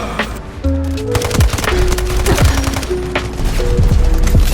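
Rapid bursts of automatic gunfire and explosive impacts in the Delta Force video game crackle densely over a constant roar, with whooshing effects and repeated shots filling the whole stretch, loud and close.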